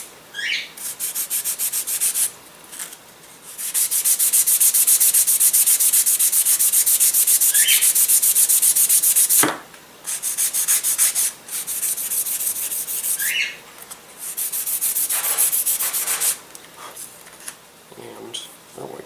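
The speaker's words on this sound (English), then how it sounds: "You can sand down the sides of this a little bit because it is a little on the wide side." Sandpaper rubs rapidly back and forth along the side of an Evo Fire model plane fuselage in long bursts with short pauses, close and fairly loud, with occasional faint birdsong in the background.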